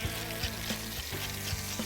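Chicken thighs sizzle and spatter steadily in a hot pot, a constant crackling hiss with faint low hum beneath, moderately quiet.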